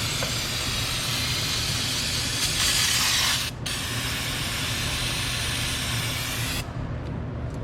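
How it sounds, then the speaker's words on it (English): Brake cleaner hisses from an aerosol can onto power steering fluid on a Ford Ranger's pump area, a loud, close, continuous spray with a brief break midway and a second sustained burst. "Next, we'll come in here and get some of this power steering fluid off with some brake clean."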